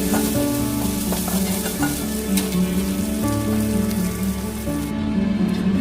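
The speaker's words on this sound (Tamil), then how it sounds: "சேர்த்து அதையும் நல்லா வதக்குங்க." Chopped tomato, onion and grated coconut sizzle and crackle steadily in a hot pan as they are sautéed, a continuous close frying hiss with occasional stirring sounds.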